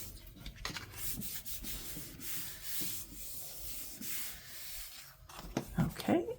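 Paper pressed and rubbed down by hand onto a craft journal cover, a soft continuous scuffing and sanding-like friction close by, with brief louder squeaks of rubbing near the end.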